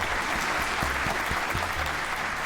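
Applause from an audience honouring a woman who donated her house as a museum of Black history, a steady wash of clapping heard on its own.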